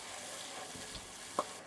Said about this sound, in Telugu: టమాటా నూనెలో కొంచెం గోలాలండి 2 నిమిషాలు